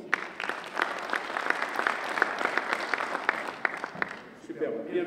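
Audience applause at a tourism forum in Meknes welcomes a guest named Amine to the stage, steady dense clapping for about five seconds that thins out near the end, with a voice briefly audible through it.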